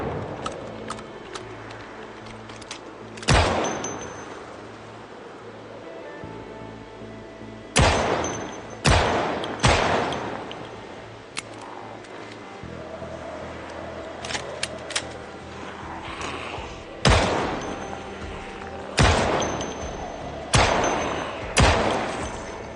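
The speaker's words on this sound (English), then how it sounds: "Can't stop shooting." Firearms go off in the zombie survival game Project Zomboid: loud, sharp shots arrive singly and in quick clusters of two or three, separated by pauses of several seconds, over quiet in-game background noise.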